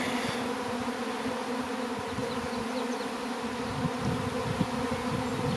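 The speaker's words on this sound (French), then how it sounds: "Un premier essaim." A swarm of honeybees hums outdoors, a dense steady buzz from many insects at once, quiet and even throughout with no voices.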